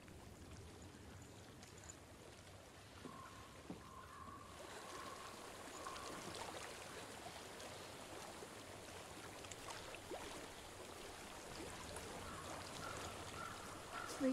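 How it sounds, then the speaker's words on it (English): A stream flows steadily in Hellblade: Senua's Sacrifice, a faint, continuous watery wash that stays even across the whole stretch, with no voices over it. "Water."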